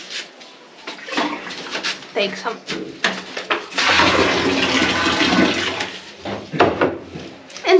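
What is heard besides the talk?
water being taken from a village house water tank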